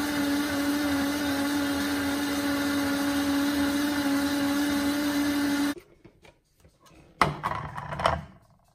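A blender whirring loudly at a steady high pitch while making a smoothie, then cutting off abruptly, followed by a few quieter clunks and a short rattling handling noise near the end.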